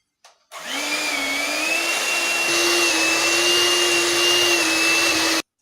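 An electric mixer whirs steadily while mixing butter for a recipe, a loud close motor whine that starts abruptly after a brief knock and holds even pitch until it cuts off.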